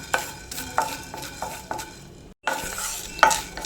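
Whole peppercorns dry-roasting in a pan for homemade sambar powder are stirred with steady, rhythmic scraping strokes, up close and fairly loud, with a brief pause before the stirring resumes.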